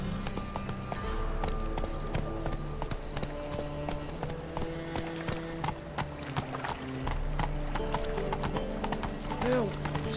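Galloping horse hooves in The Witcher 3 give a steady clip-clop rhythm throughout, with a brief whinny, over game music and intermittent speech.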